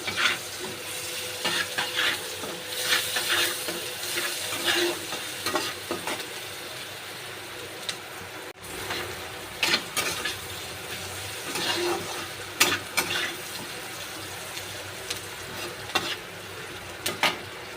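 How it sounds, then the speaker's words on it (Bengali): Salted fish frying in a pan, a steady close sizzle with stirring scrapes and a few sharper clinks throughout, no talking. "নুন দিয়ে ভালো করে ভেজে নেব"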